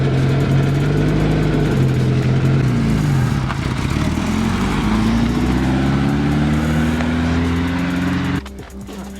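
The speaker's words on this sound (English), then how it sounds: "I think you need to drop your idle a little bit." A turbocharged Mazda Miata idles steadily up close, its engine note wavering slightly before a sudden drop near the end.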